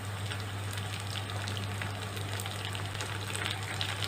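Chili frying in a pan gives a steady, crackling sizzle with a low hum underneath, continuous and moderately quiet, and no voices.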